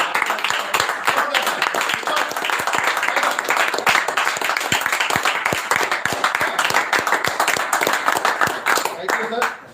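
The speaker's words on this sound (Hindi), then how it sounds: "जोरदार तालियां मिस्टर सुमित पांडे जी के लिए" Loud, dense applause from an audience at a sales training event, many hands clapping steadily for the whole stretch with sharp individual claps standing out, and no talk over it.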